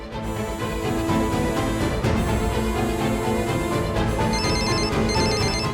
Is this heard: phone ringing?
yes